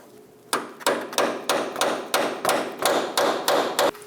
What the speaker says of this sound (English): Using a chisel, we're going to spread apart that clamp.